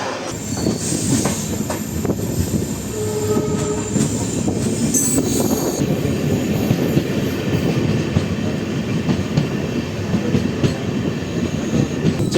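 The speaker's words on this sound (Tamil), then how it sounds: "செட்டிநாட்டு தலைநகரமான காரைக்குடி ஜங்ஷன் ரயில்வே ஸ்டேஷனுக்குள்ளே 17 வருஷத்துக்கு அப்புறம் மயிலாடுதுறை ட்ரெயின் அகைன் என்ட்ராகுது" A Mayiladuthurai train rolling into Karaikudi Junction station, loud and close, with squealing wheels on rails, a brief horn-like tone and rhythmic clickety-clack under a continuous rumble.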